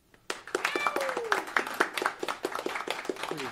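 Audience at a late-night comedy talk show claps in a scattered, modest burst, with a voice sliding and calling out over the handclaps.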